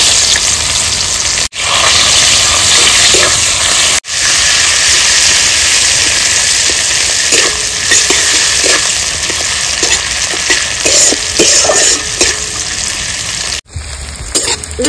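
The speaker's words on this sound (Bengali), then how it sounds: "পেঁয়াজটা আমি মিডিয়াম ভাবে ভেজে নিয়েছি" Loud, steady sizzle and hiss of chopped onion frying in mustard oil tempered with dried red chillies, whole cumin and whole garam masala, with occasional stirring scrapes and a few brief breaks in the sound.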